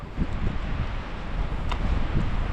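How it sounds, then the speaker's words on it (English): Cold wind roars across the microphone during a road bike ride, a steady loud rushing buffet with low rumbling gusts and no speech. "It's so cold in the wind, my upper body is absolutely frozen."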